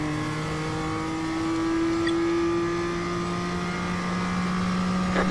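A BMW M2 race car engine in iRacing drones steadily at high revs, a close, loud in-car tone holding nearly constant pitch with a slight rise toward the end.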